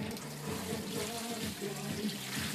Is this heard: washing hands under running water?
yes